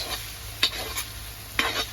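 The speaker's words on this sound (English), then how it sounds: "Pumpkin can fry all on the sides of the pot." Pumpkin frying in oil with a steady sizzle, broken by a couple of quick scraping stirs in the pot.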